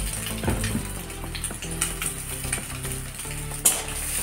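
Boiled, blended egg fries in a pan with chopped green chili, making a continuous crackling sizzle with scraping and clinking of a stirring utensil and a low steady hum underneath.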